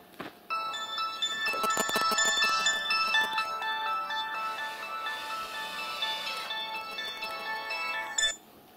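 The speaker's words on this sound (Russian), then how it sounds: "Ну, далеко как, не слышали, что мне звонят." A mobile phone ringtone plays a steady melodic electronic tune for several seconds at a grain warehouse, fairly loud and clear, with faint clattering at the start before it cuts off.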